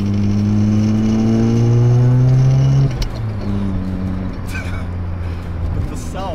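Barn-find Mazda RX-7 FC rotary engine running on premix, revving up loud and close with rising pitch, then dropping back to a rough, uneven idle with brief blips.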